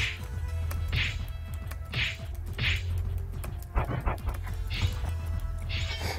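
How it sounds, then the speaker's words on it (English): A little dog summoned in the Lost Saga video game pants and yaps in a string of short, regular bursts about once a second, mixed with sharp whacking hits, with no talk over it. "if you hit guard, you get like a little dog to come out"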